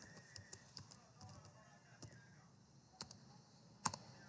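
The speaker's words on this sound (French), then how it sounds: "J'appuie sur la touche entrée" Keys click on a computer keyboard, with scattered soft taps and one sharper, louder press near the end, all close and quiet in a still room.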